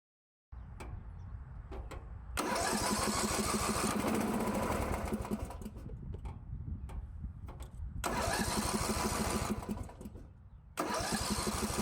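A tractor engine with a carburetor fault cranks and catches, runs loudly for a few seconds, drops off, then restarts and dies again several times in bursts, close and alone.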